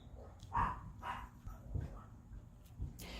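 Several dogs bark in short bursts, faint and somewhat distant, with a few yips scattered over a quiet background.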